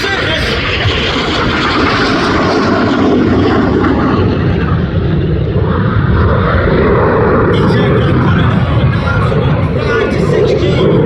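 RAF Red Arrows jets roar overhead at the Midlands Air Festival, a loud, sustained engine rumble that shifts in pitch as they pass, with crowd noise and a commentator's voice beneath.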